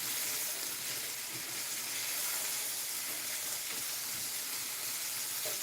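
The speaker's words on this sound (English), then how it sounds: "coat the onions in that bacon grease as the bacon cooks down" Bacon and onions sizzle steadily in a pan, a dense, even hiss of frying grease that holds at a constant moderate level throughout, with no voices.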